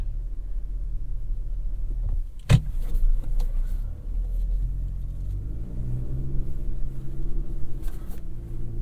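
A 2024 GMC Canyon AT4X AEV pickup reverses slowly off-road, its engine a steady low rumble close by, with a sharp knock about halfway through and a brief mechanical whir near the end.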